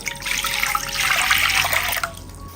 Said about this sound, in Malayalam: ഇനി ഒരു പാനിലേക്ക് ഒരു നാല് ഗ്ലാസ് വെള്ളം ഒഴിച്ചു കൊടുക്കാം